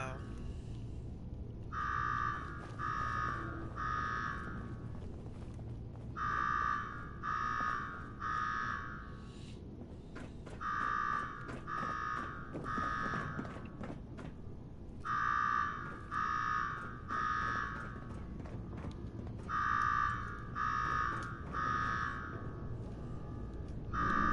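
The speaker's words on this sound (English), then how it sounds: "Now go shut off that damn alarm." Repeating electronic alarm in Fallout 4's Nuka-World Gauntlet, sounding in sets of three harsh buzzing tones with short pauses between them, over a low rumbling game background.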